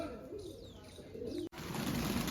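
Pigeons coo softly around a rooftop loft as a new bird arrives; low, murmuring calls sit under steady outdoor background noise, with a short break midway and no talking.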